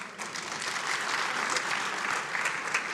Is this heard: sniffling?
no